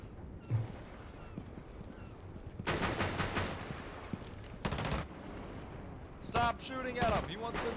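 Gunfire in Rainbow Six Siege comes in several short automatic bursts, fairly loud against a quiet background, with a gap of stillness between volleys and a sharper burst near the end.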